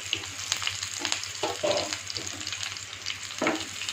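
Ginger, garlic and green chilli sizzle steadily in hot oil, close up, with intermittent stirring scrapes and small pops rising above the constant frying hiss.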